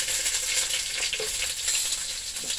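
Garlic and onion hitting hot oil in a pan while making steamed fish head with okra in coconut curry sauce: a steady, loud, close hiss and crackle sizzling continuously without pause.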